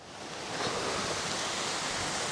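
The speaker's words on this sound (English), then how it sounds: "you can probably hear the sound of water" Broad, steady rush of a waterfall pouring in the Dovedale valley, a continuous wash of flowing water swelling slightly at the start and holding even, fairly close, with no voices.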